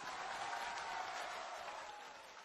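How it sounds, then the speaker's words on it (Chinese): Studio audience at the 2017 Liaoning Economic Channel Spring Festival gala applauds in a steady, even wash of clapping, soft and distant, holding throughout before easing slightly at the end. "掌声有请。"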